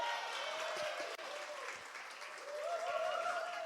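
A church congregation at a Sunday service applauds to welcome the morning's woman preacher, a faint, continuous clapping with cheering voices and tonal sounds mixed in.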